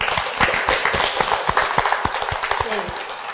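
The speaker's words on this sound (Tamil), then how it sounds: "நல்ல கைத்தட்டுங்க அவனுக்கு." Schoolchildren in a classroom clap for a classmate, a lively patter of many small hands in quick, slightly uneven rhythm, close and fairly loud, with a voice briefly heard near the end.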